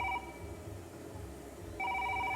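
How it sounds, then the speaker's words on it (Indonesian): A mobile phone rings with a trilling electronic tone in two bursts separated by a pause, near and clear over a quiet indoor background. "Eta HP di sada wae naon atuh?"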